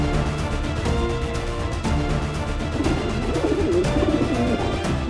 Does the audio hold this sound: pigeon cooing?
yes